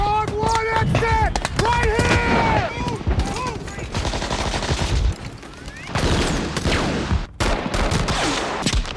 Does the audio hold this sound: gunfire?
yes